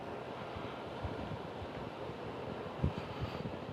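Low, gusty wind buffeting the microphone at an outdoor fuel run event in Jedburgh, bunting blowing, a steady rumbling roar with a few louder thumps, no voices.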